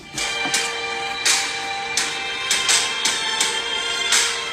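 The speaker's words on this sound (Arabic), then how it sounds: "هاي صوت موسيقى الفوز" Victory music from the mobile game PUBG Mobile plays from a phone, a steady musical track with rhythmic percussive hits at moderate loudness and no voices over it.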